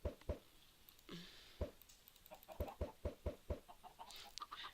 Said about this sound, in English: I wanted you here to see how many chickens we get